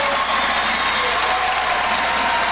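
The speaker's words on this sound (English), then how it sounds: "the crowd is ecstatic right now" A basketball crowd at an IPFW men's game against Kentucky Wesleyan roars and applauds after a late basket, a dense, steady wall of cheering and clapping that holds loud for the whole stretch.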